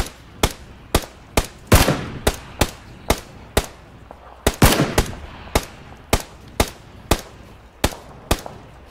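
Gunfire in PlayerUnknown's Battlegrounds: a long run of sharp, evenly spaced single shots, about two per second, with a couple of heavier reports mixed in, loud and close with no talk over it.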